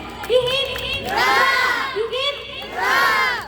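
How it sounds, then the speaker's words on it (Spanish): A crowd at a Peruvian tunantada folk music event cheers and shouts in two loud, swelling bursts, with voices rising together, no clapping clearly standing out. "Fuerte el aplauso para él, por favor"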